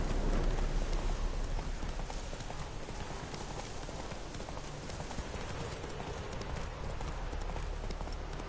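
Horse hooves clip-clop steadily through The Witcher 3, a continuous rhythmic trot over a wash of rain-like noise, fairly loud and unbroken with no talking over it.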